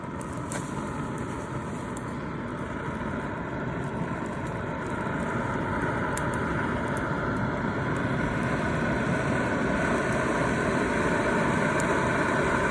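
Ultralight camping stove with an ember guard, its fan running at high strength, gives a steady, loud jet-like roar that holds constant and close throughout, swelling slightly partway through.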